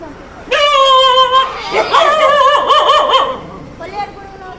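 Loud, close dog yelps and whines, a few drawn-out cries in quick succession, heard at a village in Andhra Pradesh where many street dogs were poisoned.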